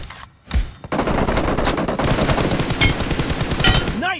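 Rapid automatic gunfire crackles in a PUBG team deathmatch on the Ruins map, loud bursts following a short opening shot and running continuously to the end.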